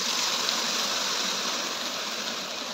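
Water pours into a pot of chicken curry cooking with onion and garlic paste, a steady loud rushing gush that holds for the whole stretch with no talk.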